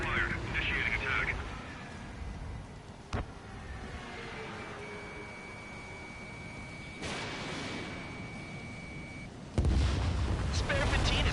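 Missile fire and launch bursts from aerial combat in Ace Combat 7, with sharp cracks and loud roaring blasts over a constant jet-engine drone, radio chatter, and a long steady lock-on tone.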